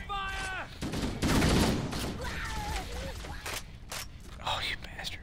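Gunfire in the video game Halo: MCC, bursts of shots and bright blasts mixed with game effects, heard under someone talking.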